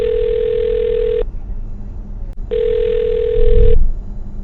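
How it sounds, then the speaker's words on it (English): An outgoing telephone call to a radio show guest rings on the line, with two long, steady ringback tones separated by a pause and a low murmur beneath. "I'll dial his phone number right now"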